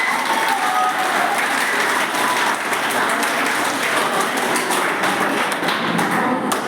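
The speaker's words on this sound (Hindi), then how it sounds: "और एक बार जोर से तालियां खुद के लिए, जोर से," A crowd claps loudly and continuously in a dense, sustained burst of applause that fills the whole stretch.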